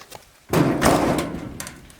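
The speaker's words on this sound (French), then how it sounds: "Merde, j'ai pété la porte." A door slams hard with a loud, close bang and a rattling, resonant crash that decays over about a second, followed by faint clatter, as the door breaks.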